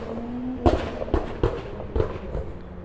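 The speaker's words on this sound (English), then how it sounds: "That's a car backfiring." A car backfiring outdoors, a series of about five sharp pops spaced roughly half a second apart, fairly distant and fading slightly toward the end.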